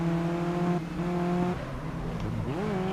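Race car engines in the video game GRID Legends drone and shift pitch while overtaking on a straight, with steady loud tones that drop and then rise again as another car passes.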